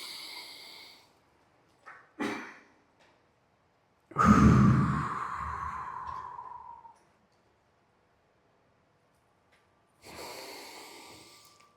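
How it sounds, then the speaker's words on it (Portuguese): Slow, controlled box breathing: a few audible breaths, including a long drawn exhale lasting several seconds, close to the mic with quiet gaps between them. "Essa respiração quadrada."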